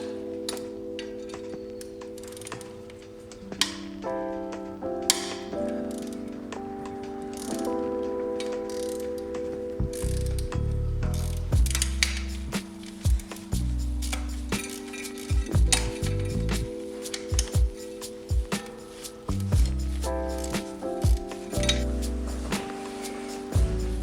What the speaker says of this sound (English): Next, I'm going to remove the starter.